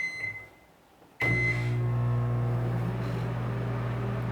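A microwave oven switches on during a clamp-meter amperage test, cutting through near-silence with a sudden steady, loud electrical hum that holds unchanged to the end.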